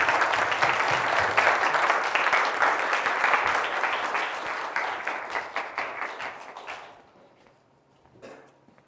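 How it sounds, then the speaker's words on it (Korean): An audience at a high school special lecture applauds to welcome a speaker, a full burst of clapping that thins into scattered claps and dies away into near silence. "박수로 맞아주시기 바랍니다."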